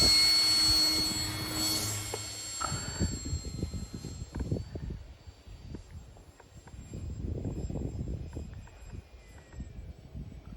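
A repaired Hawker Hurricane RC model airplane flies over a UK airfield on a windy day, its engine drone rising and fading at a distance, with a steady whoosh of wind noise throughout.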